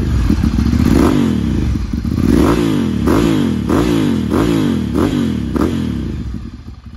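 A Ducati Monster 796 S2R motorcycle engine revs repeatedly in close, loud bursts, each rise and fall of pitch following the last in a steady rhythm over a continuous running idle.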